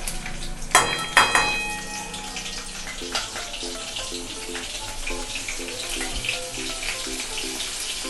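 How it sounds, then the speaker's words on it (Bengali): Chopped dried red chillies fry in oil in a pan for a mustard prawn and pumpkin greens dish, giving a steady close hissing sizzle, with a couple of sharp utensil clatters near the start. "দেখুন শুকনো লঙ্কাটা আধ ভাজা হলে, পুরো ভাজবেন না"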